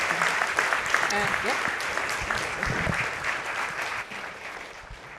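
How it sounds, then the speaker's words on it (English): An audience at a press club forum claps steadily, a dense round of applause that tapers slightly, with a brief spoken word from someone nearby. "Please give us a round of applause."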